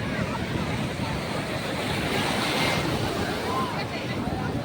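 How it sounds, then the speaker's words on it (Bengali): Big sea waves break on a beach in a constant roaring wash with heavy wind noise on the microphone, and one surge swells louder midway through. "সামনে আরও বড় বড় ঢেউ আসছে।"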